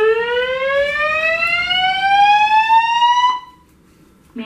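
A building fire alarm wails loudly in a rising electronic sweep, then cuts off abruptly, leaving near silence before a brief new sound at the very end.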